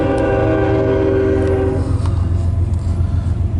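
A loaded coal freight train rolls past close by, heavy low rumble and rail noise with a sustained horn tone in the first half, then steady clatter without voices.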